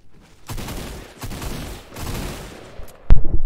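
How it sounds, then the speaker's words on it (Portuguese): Fortnite gunfire rings out in a short burst of rapid shots, then a single loud sharp crack near the end, over game background noise without speech. "Mano, eu dei um monte de tiro."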